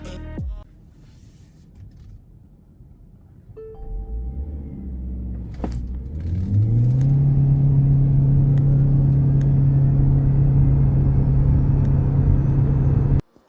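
A Haval Jolion HEV hybrid SUV launches hard: quiet cabin hum, then a rising engine drone that climbs and settles into a loud, steady roar for several seconds before cutting off abruptly.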